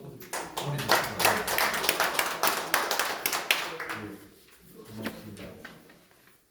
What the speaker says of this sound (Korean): 힘찬 박수, 격려 박수 하고 보내주십니다